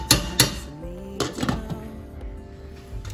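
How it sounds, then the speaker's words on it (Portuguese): Metal lid set back onto a cooking pot of rice and potatoes: two sharp clanks near the start, then further rattling clinks and a ringing metallic tone, close and fairly loud with no talk. "E vou tampar novamente."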